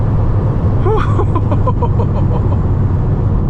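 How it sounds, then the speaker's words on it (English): A Ferrari 599 with a V12 engine accelerates hard, a loud, close, continuous engine roar with a rising tone over a short burst. "those V12s are no joke. They scoot pretty damn hard."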